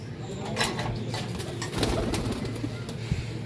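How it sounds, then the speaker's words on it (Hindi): A fulsara pigeon, a flying pigeon of the Malwahi breed, gives soft low repeated coos, close and fairly quiet against a faint outdoor background. "एक फुलसरा कबूतर दिखाता हूँ दोस्तों अब आपको।"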